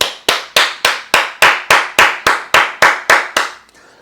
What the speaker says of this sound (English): I'm gonna give another hand clap for the people out there that has a heart.